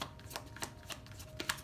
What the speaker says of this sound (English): It'll take me a minute to shuffle, but while I'm shuffling